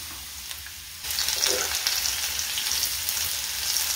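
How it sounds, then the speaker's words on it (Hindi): Okra coated in gram flour drops into hot mustard oil: quiet background at first, then a sudden loud rush of sizzling that keeps crackling steadily, close to the pan. "तेल गर्म हो गया है, अब कोट की हुई भिंडी इसमें डाल देते हैं।"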